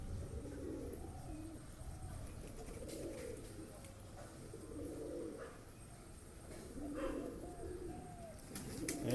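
Pigeons of several breeds coo softly in a loft in a slow, repeating rhythm, faint against low background noise with an occasional chirp.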